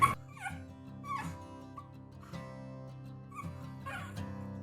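A tiny newborn puppy, only days old, whimpers and yips in several short high-pitched bursts over a low steady background hum, close and fairly soft.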